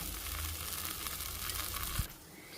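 Bobbatlu filling being stirred in a pan with ghee, a soft steady sizzle with a dull thump near the end, then quieter frying.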